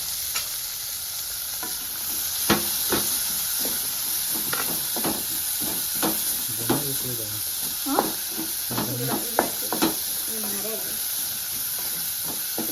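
Onions fry in hot oil for a prawn biryani, giving a steady close sizzle and hiss broken by sharp stirring and scraping clicks, with faint vocal sounds at moments.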